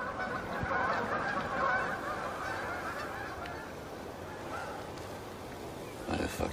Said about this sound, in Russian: Заткнитесь вы, гуси!